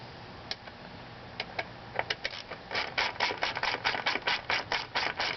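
A ratchet turning the drive cover bolts on a Honda SH150i scooter. Sparse ticks quicken into a steady, close run of sharp clicks that grows louder toward the end.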